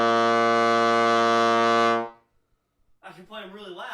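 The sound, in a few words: loud low note on tenor trombone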